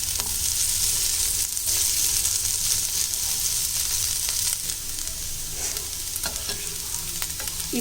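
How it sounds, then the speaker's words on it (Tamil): Potatoes fry in a pan with a close, continuous sizzle and the scrape of stirring. A few sharp clicks come through near the end, and nobody speaks. "இந்த உருளைக்கிழங்கு நல்லா ஃப்ரை ஆகிட்டே இருக்குது"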